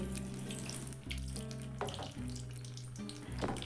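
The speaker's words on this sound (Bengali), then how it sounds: "এখানে আমি সেম একইভাবে বেসনের মধ্যে ডুবিয়ে বাকি মির্চিগুলোকেও এইভাবে ভেজে নেবো" Green chillies dipped in gram flour batter frying in hot oil, a soft, low sizzle and bubbling with occasional clinks and splashes.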